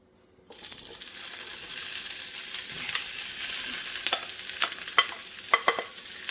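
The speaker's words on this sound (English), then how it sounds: "while the veg is cooking in the skillet" Green bell pepper and mixed vegetables hit a hot skillet and sizzle steadily, with scraping stirs and sharper crackles growing toward the end; no one speaks.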